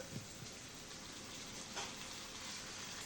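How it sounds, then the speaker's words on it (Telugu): Oil frying in a pan while broad beans and fenugreek leaves cook for a curry, a steady dense sizzle with a few soft stirring knocks, close and continuous with no talk. "ఇది రెండు నిమిషాలు మంచి ఫ్రై చేసుకోవాలి"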